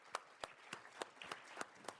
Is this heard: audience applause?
yes